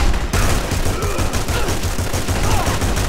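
Rapid continuous gunfire from two guns fired at once in The Punisher video game, a loud dense barrage of shots rattling steadily throughout with no pauses.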